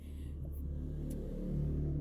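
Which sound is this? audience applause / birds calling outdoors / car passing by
car passing by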